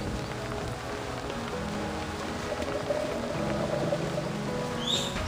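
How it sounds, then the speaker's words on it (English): Rain storm in the game Reverse: 1999, a steady wash of falling rain and spattering drops with a low rumbling bed, continuous and moderately loud throughout. "What kind of storm is this?"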